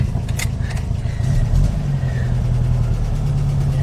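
Volkswagen car engine idling steadily as it backs up in reverse, a constant low rumble throughout with a slight lift in pitch midway, nearby and fairly loud.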